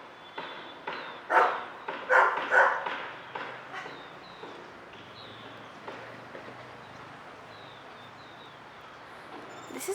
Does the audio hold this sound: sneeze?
no